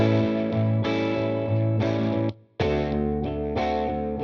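Riffendium X sample library in Vari 1 mode plays a sequence of thick, effected chords, each held about half a second with sharp changes, a brief drop to near silence near the middle, then more chords, loud and steady without talk.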